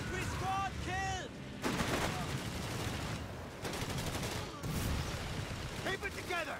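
Battle gunfire in the video game Company of Heroes 3, steady crackling rifle and machine-gun bursts with occasional booms, under shouted soldier voices.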